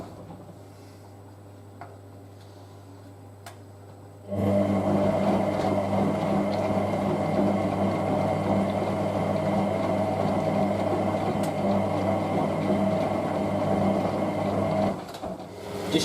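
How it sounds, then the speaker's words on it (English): A Hotpoint 9530W Electronic 1000 Plus washing machine's motor starts after a few quiet seconds and runs with a steady, loud hum and faint ticking for about ten seconds before winding down abruptly. "Keep it quiet so you guys can enjoy the motor sound."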